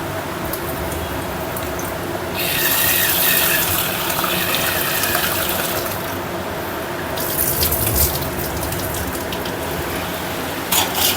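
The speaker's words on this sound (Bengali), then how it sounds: "চালটা একটু ধুয়ে দিতে হবে না?" Tap water runs steadily into a sink while rice is rinsed, a continuous close gushing splash that swells louder in stretches as the grains are stirred, with no voices.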